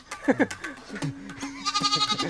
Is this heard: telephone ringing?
no